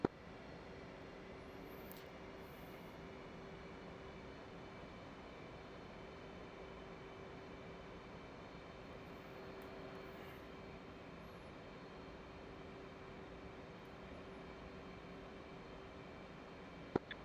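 A steady, even engine drone from an F/A-18 jet just after takeoff in the DCS flight simulator, a constant low, faint hum with no change in pitch or level, and brief clicks at the edges.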